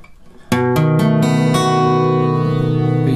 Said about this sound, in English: we've also got B seventh, which sounds like this